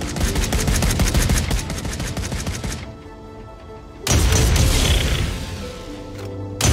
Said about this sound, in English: We have plans for PVE content and have been testing, for example, these proof-of-concept automated turrets